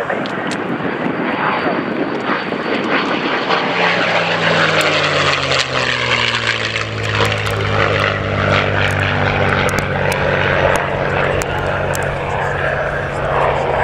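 A P-51 Mustang's piston engine and propeller roar loudly and continuously during an airshow display, and the pitch slides as the aircraft passes. A voice speaks over the engine noise.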